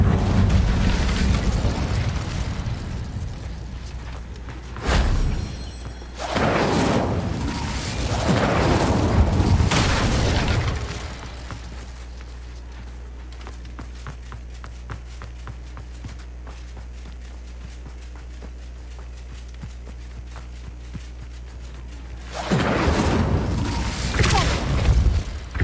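Incendio fire spell cast in Hogwarts Legacy, heard as several loud whooshing fiery bursts, two close together early, a long quieter stretch, then another burst near the end.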